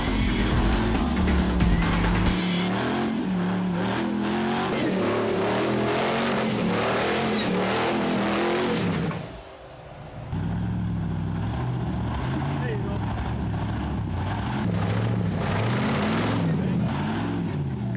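4x4 vehicle climbing slick wet rock in Lava Flow Gulch: a loud engine that revs and strains, surges, drops away briefly near the middle, then roars back.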